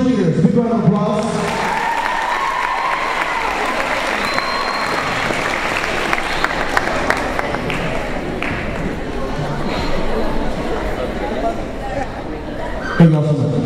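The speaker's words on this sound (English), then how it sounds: "Big round of applause" Applause from a school audience at a junior high assembly welcoming the cheerleaders, steady crowd clapping with some cheering sustained for over ten seconds, with a voice speaking briefly at the start and end.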